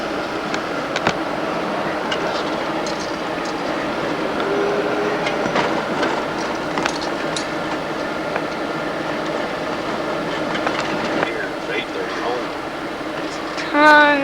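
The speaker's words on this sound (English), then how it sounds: "It's like the train that goes around everywhere." A train runs on an elevated line in Chicago, a steady rolling rumble with faint clacks and squeals under continuous background chatter from people nearby.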